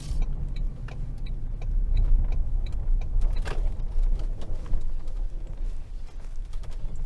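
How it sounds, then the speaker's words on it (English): Toyota Tundra TRD Pro pickup in sport mode, a low rumbling exhaust drone inside the cabin while driving over gravel, with scattered clicks and rattles on top, steady and fairly loud without talk. "in the sport mode, the exhaust noises coming into the cabin, probably mainly from the speakers, is a little too loud for my liking."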